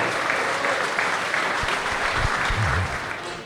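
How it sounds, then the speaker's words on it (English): Speedway meeting crowd giving a round of applause, a broad, sustained wash of clapping from a large gathering, fairly loud and continuous, with faint low rumbles and a brief voice mixed in near the end. "give them a round of applause"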